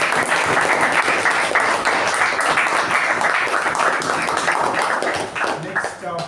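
Audience applause at a Toastmasters meeting, dense steady clapping filling the room and fading slightly toward the end, with voices mixed in.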